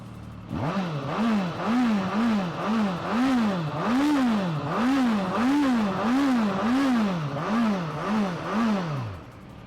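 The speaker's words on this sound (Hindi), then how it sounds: "बेहद ही माचो मस्कुलर साउंड करने वाला इसका एग्जॉस्ट नोट है।" Suzuki Katana inline four-cylinder motorcycle engine revved repeatedly while standing, about a dozen rhythmic blips rising and falling through the exhaust, loud and close with no voices.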